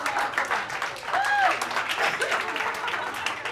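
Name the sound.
audience applause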